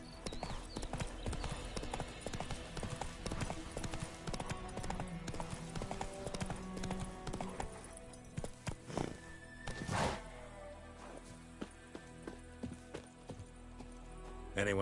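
Hooves of Roach, a horse in the Witcher 3: Wild Hunt video game, clip-clop steadily throughout under a dense game soundtrack and effects, with a whinny or thud around the middle and a voice speaking at points.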